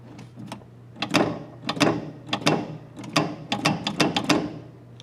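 Carburetor throttle linkage on a Torino snapping back against its return spring fixed to the rear carb stud, a series of sharp metallic clicks and snaps repeating about a dozen times at close range, with a steady low hum underneath.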